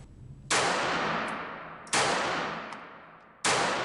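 Three sharp shots from a Beretta Model 3032 Tomcat .32 pistol crack out about one and a half seconds apart at a range, each loud and close with a fading echo.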